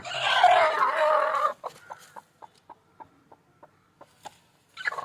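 Country chickens in a rural yard at evening feeding time, a loud burst of clucking and squawking followed by a string of short, evenly spaced clucks, then another brief outburst, with no talk.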